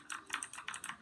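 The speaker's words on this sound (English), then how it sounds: "by blue switches, I mean like loud and clicky switches" A Redragon Kumara gaming keyboard with loud clicky blue switches is typed on nearby, giving a quick, even run of sharp, bright clicks with no voices.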